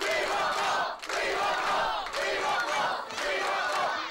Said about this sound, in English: the crowd here and the talk are baying for more Zebra Kid